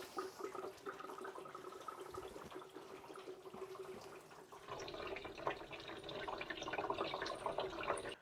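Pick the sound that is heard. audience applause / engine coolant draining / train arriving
engine coolant draining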